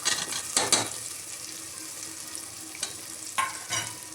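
Potato sautéing in a pan with soft tomato for Indrayani masala rice: a steady sizzle with a few sharp scraping stirs and clatters of the spoon, close and alone with no talking.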